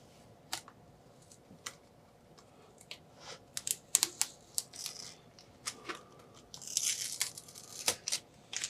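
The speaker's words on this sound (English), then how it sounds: "So then now hopefully we'll just peel off this masking tape." Masking tape peeled off a 1/16 scale Artesania Latina Sopwith Camel model aircraft gives a close, quiet series of crisp ticks and crackles, then a longer tearing rasp near the end.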